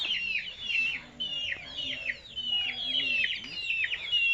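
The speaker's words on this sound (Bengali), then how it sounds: "দেখছেন মুরগি পালন করে" Chickens cluck and chatter repeatedly, close by, in a lively rhythmic series of calls with faint background noise.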